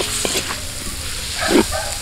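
Lechon sisig being stirred and fried in a pan outdoors, a steady close sizzle with scraping strokes of the spatula and a louder clatter near the end, no talking.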